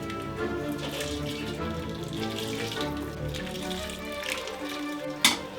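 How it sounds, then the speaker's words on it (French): Homemade broth poured through a kitchen strainer, a steady close splashing, trickling stream of liquid that runs continuously, ending with a brief metallic clank of the pot or colander. "on va passer le bouillon à la passoire"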